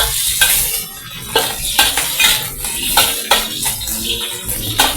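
Crispy pork frying in hot oil in a wok, with a steady sizzle and repeated scraping of a utensil against the pan in an irregular rhythm, close and fairly loud, no voices.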